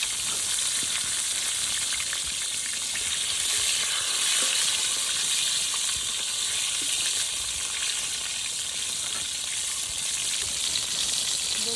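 Eggplant pieces fry in a pan for a vegetarian brinjal curry, giving a steady, dense sizzle that holds at an even loudness throughout with no voices.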